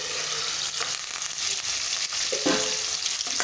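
Green chilies and curry leaves sizzle in hot oil in a covered pan for poha, a steady close crackling hiss with faint stirring scrapes and no speech.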